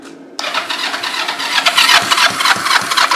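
With the choke on, an engine cranks and catches after a brief quiet moment, then runs loud and close with a rough, uneven idle that keeps pulsing.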